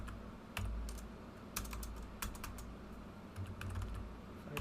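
A Linux passwd command typed on a computer keyboard: a quiet run of separate key clicks, some in quick pairs, close and alone over faint room hum.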